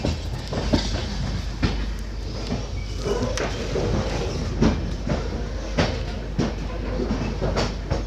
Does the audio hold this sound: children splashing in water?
no